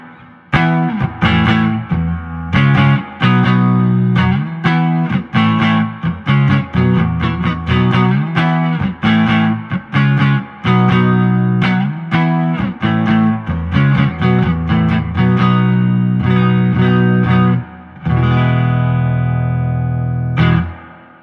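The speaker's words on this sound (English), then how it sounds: "now we'll try it with some reverb" Electric guitar chords and picked notes played loud through a 1964 Princeton Reverb amplifier with reverb on, ending on a long ringing sustained chord.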